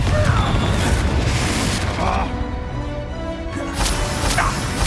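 A Confringo spell exploding in Hogwarts Legacy battle, a dense rumbling boom with scattered pops and crashing debris over steady low game noise, with no voices.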